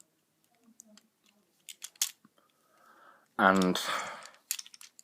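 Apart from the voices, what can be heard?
parts of a Transformers Starscream toy being flipped and folded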